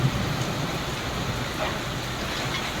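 Unseasonal rain falls steadily in Yeola as a soft, continuous hiss of drops on surfaces, fairly faint and even throughout, with no voices.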